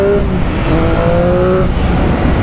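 A Triumph Speed Triple 1050 three-cylinder motorcycle engine growls loud and close under riding load, with rising and falling engine tones and rushing wind behind it.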